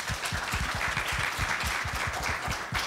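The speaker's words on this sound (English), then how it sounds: "let's give them a big round of applause" Conference audience applauding at a 2013 tech entrepreneur event in Silicon Valley, a dense, steady patter of many hands clapping together for about three seconds with no talk over it.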